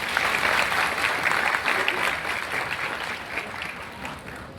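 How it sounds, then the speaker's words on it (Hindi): Loud applause from a stage audience, dense clapping from a large crowd that holds strong and steady throughout, with no one speaking over it. "एक जोरदार ताली हो जाए।"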